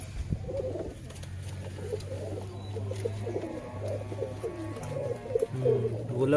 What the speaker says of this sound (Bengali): তো অলরেডি কবুতরটা ধরা হয়ে গেছে।